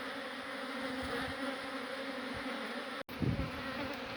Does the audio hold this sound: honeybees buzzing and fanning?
yes